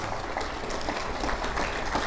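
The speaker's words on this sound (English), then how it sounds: "a round of applause, please" An audience at an evening interfaith program during Ramadan applauds with a soft, even spatter of clapping. The clapping is distant and fairly faint and lasts about two seconds.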